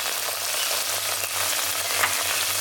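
Potatoes fry with a close, continuous sizzle and crackle in hot oil as Kashmiri chili powder and salt are stirred through them, with light scraping from the spoon.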